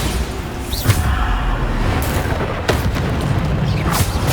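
Bombarda spell blasts in the video game Hogwarts Legacy, loud booming explosions at roughly 0.9, 2.0, 2.7 and 4.2 seconds over a constant dense rumble of combat effects.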